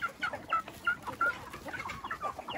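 Heritage and native chickens in a laying house cluck and chatter in a quick, busy series of calls, fairly close but moderately quiet.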